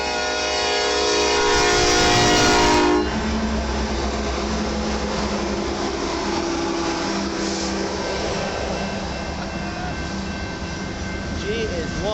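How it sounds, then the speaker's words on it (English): A Canadian National SD70M-2 diesel locomotive passes close by in Battle Creek, Michigan, opening with a loud, sustained chord horn blast that cuts off, followed by a heavy rumble and rolling roar of the train going past. "This is a ST70 M-2, very common engine for Canadian National Railways. This has a beautiful horn on it"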